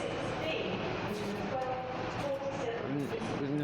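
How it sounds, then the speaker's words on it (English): East Midlands Railway high speed train idling at Nottingham station, a steady loud engine rumble and hiss with faint whining tones and murmured voices in the background. "Ready to depart now in a few moments time should be the 1245 East Midlands Railway high speed train service"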